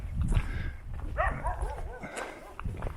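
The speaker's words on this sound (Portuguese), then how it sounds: "Só cachorro mesmo." Dogs bark in a quiet Turkish village along the Lycian Way, several sharp barks rising in the middle, a bit distant, over wind and footsteps.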